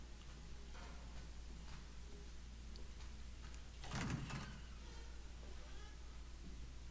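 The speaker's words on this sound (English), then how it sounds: "Close the door." A door closes inside the Resident Evil 7 video game with one brief, moderately loud thud near the four-second mark, set against a steady low hum of game ambience.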